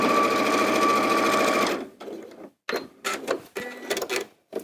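A Janome 570 sewing machine stitches a quilt block, running loud and steady for nearly two seconds before breaking into short separate handling sounds.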